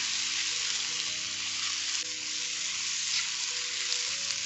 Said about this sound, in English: we are going to saute everything together, our baby Bella mushroom.